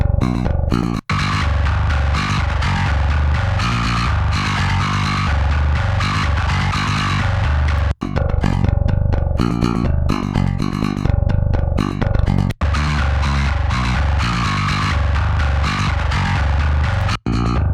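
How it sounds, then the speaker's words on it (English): A bass guitar played through an effects pedal, heard in dense, distorted riffs that run continuously with a few abrupt cuts between takes, the tone switching between dry and processed. "If you ask me, this is a wonderful little bass pedal."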